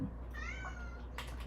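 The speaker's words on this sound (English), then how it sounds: "He'll just sit there and meow if I don't let him out." A male house cat meows insistently to be let outside, a single drawn-out wavering meow heard close and clear over a steady low room hum, followed by a short rustle.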